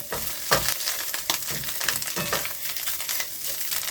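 Mushrooms frying in a pan for homemade Chinese fried rice inside a travel trailer: a bright sizzle broken by repeated scraping stirs and crunchy shuffles of the pan contents, close by.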